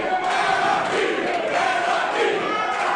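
A wrestling audience at an independent show shouts and roars continuously, a dense, steady wall of crowd noise with no individual voice standing out.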